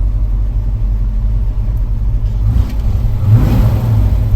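A 1970 Ford Mustang Boss 302 V8 idles with a steady low rumble, then revs up briefly near the end, the engine swelling louder and rougher before settling.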